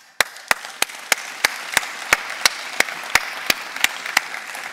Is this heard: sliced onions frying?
no